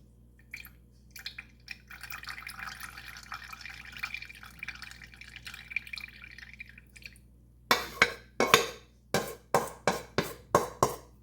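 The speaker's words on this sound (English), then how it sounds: "What we're going to do is we're going to pour that into the clean jug." Buttermilk from making infused butter drips and trickles into a clean jug. A faint low pour comes first, then a run of loud, close, evenly spaced drips towards the end.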